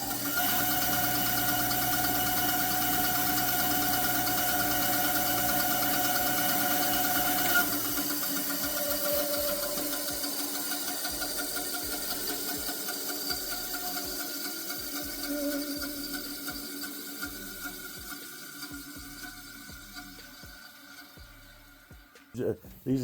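A Laguna V10 woodworking machine runs with a steady, fairly quiet mechanical hum and whir that slowly fades as it winds down, ending with a couple of small knocks.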